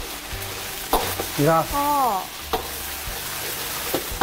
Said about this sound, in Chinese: 下头葱姜蒜，你看啊， 直接就爆炒了是吧？